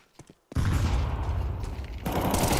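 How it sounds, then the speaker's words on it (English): Rapid gunfire in an esports shooter match, a dense burst of shots starting abruptly and continuing loud and close, with a second volley near the end. "And just some shots from Shane to put him on his toes"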